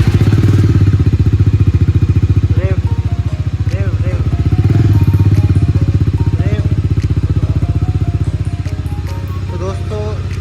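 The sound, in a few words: Bajaj Dominar 250 motorcycle exhaust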